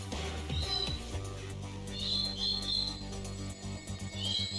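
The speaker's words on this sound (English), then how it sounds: "that bird's loud" A loud bird calls outdoors in three bursts of high, chirping notes spread across a few seconds, over a low, steady background hum.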